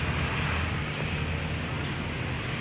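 Water sprays from a homemade PVC pipe plant-watering rig, hissing steadily like heavy rain, close and loud, with a constant dense wash of droplets throughout and no talking.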